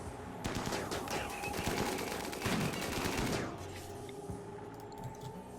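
Rapid bursts of gunfire from a battle in the colony-building video game RimWorld crackle in dense, overlapping volleys for about three seconds, then thin out into quieter scattered ambience.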